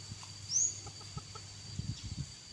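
A tame pet chicken clucking softly nearby, a few short quiet clucks and scratchy movements over a steady background hum, with no voices.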